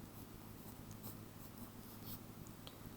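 Pen or pencil writing on paper during a math lesson on multiplying by 8, a soft continuous scratching with faint strokes throughout, fairly quiet and close.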